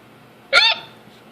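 A single sharp hiccup, one brief voiced gulp that breaks a quiet background and then stops.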